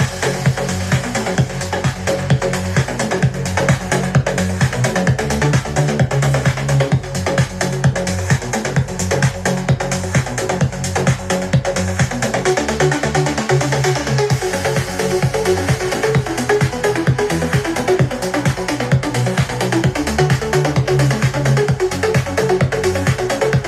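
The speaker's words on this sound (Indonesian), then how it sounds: "Nah itu suara dari Eagle Elite XL 2S." Loud DJ dance music plays continuously through an Eagle Elite XL 2S speaker, with a steady driving beat, thick bass and bright dense highs throughout, and no voices.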